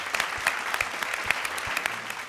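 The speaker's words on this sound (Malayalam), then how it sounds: "എല്ലാവരും ചേർന്ന് വലിയൊരു കൈയടി" Audience applause from a crowd at a stage show, steady clapping throughout with sharper individual claps standing out, moderately loud and close.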